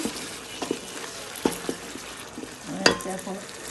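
A spoon stirs dal in a pot with a few short scrapes and knocks over a soft bubbling simmer, heard briefly and close.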